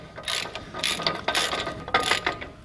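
Ratcheting on a Dana 44 axle's wheel bearing lock nut, a Ford Full Size Jeep, with repeated rapid clicking pawl strokes in four close, fairly loud bursts and no talking.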